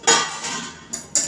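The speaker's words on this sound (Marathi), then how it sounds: "असंच आपल्याला चांगलं हे मिक्स करून मी आता कढई खाली उतरते." An iron kadhai is lifted off a gas stove, giving a loud metallic clank of pan against the burner grate, followed by a softer knock and a final sharp clatter as it is set down.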